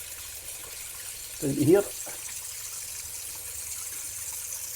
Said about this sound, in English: So really all I do is I put the hot water on